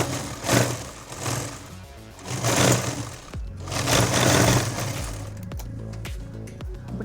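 A sewing machine stitches a summer night gown in bursts of rapid mechanical whirring that rise and fall, then gives a few sharp clicks and knocks near the end, close and alone.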